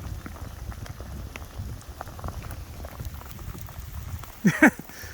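Light rain patters on a small makeshift shelter built from a chair beside the lower Murray River, a soft steady rustle close by, with a couple of brief louder knocks near the end.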